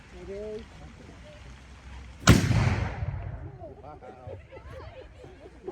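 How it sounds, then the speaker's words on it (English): A black powder gun fired at a 1620s reenactment demonstration: one sudden loud blast with a rumbling decay, after a spoken command, followed by voices in the background. "Give fire."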